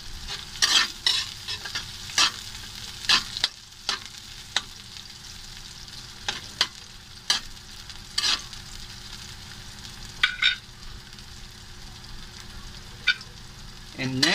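Garlic frying in a pan as it is stirred, a soft continuous sizzle under repeated sharp scraping and clinking strokes of the utensil against the pan, close up.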